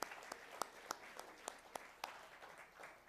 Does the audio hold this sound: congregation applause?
yes